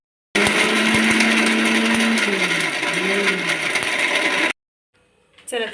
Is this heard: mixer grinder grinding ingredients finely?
yes